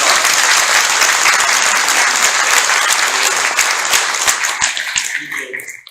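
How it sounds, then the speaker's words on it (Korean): Dense crowd applause fills a White Cane Day commemoration ceremony as party leader Na Kyung-won arrives, a steady loud wash of many hands that thins and fades out over the final second. "큰 박수 한번 부탁드리겠습니다."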